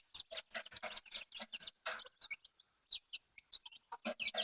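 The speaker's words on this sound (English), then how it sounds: "We unfortunately have 3 of our silky hens going broody right now" Several silkie hens, some of them broody, cluck in short, repeated bursts close by inside a chicken coop, with brief quiet gaps between the calls and no talking.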